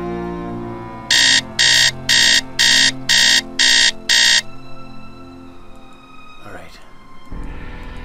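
An alarm beeps in seven loud, evenly spaced electronic pulses, followed by a low hum and shifting background tones.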